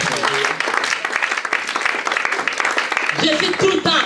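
Church congregation applauding and cheering during a French-language sermon, a dense burst of clapping and voices filling the room, with a voice rising above the crowd near the end.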